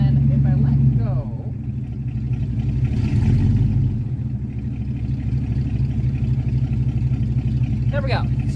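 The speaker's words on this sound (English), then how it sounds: "I'm just holding the RPMs, just ever so slightly, hitting the throttle here, right?" A cold 1982 Mercury Capri engine idles with a low steady rumble while the throttle is blipped gently, rising briefly in a mild rev before settling back, heard close with someone talking over it.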